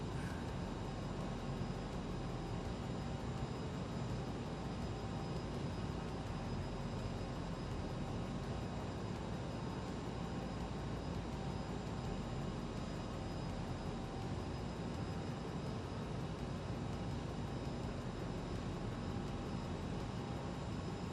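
A jet airliner taxis in a flight simulator at LaGuardia. A steady, unbroken engine drone and broadband cockpit hiss hold for about twenty seconds with no voices.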